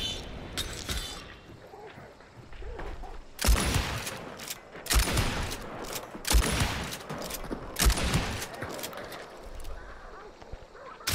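Gunshots crack in the Hunt: Showdown video game, a cluster of several loud reports at close range over quieter game ambience, with brief talk mixed in.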